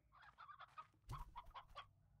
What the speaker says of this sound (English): Hey, there's a rooster.